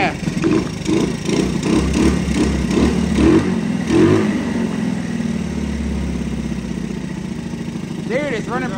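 A 1985 Honda ATC 110 engine runs loud and close, pulsing unevenly at first with rev-like surges, then settling into a steady idle; a person talks over it.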